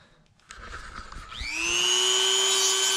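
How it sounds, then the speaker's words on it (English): A Dremel rotary tool spins up and grinds the intake port of a Honda K20 engine fitted with an RBC intake manifold on an 8th-generation Civic Si. After faint handling noises it rises to a loud, steady, high-pitched whine with no talk. "So that's what I'm going to Dremel off."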